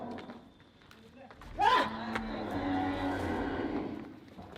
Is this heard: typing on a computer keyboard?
no